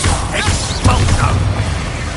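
An Expulso explosion spell cast in the video game Hogwarts Legacy: a loud, dense wash of rumbling game noise with one sharp, booming burst near the middle, followed by crackling, clattering debris-like texture.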